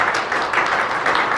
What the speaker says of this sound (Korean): 자, 축하 박수로 부탁드리겠습니다.